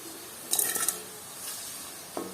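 Fried ingredients with curry leaves are scooped out of a pan over a faint, steady sizzle, with a quick burst of metal scraping and clinks and a later single clink, all quiet and close.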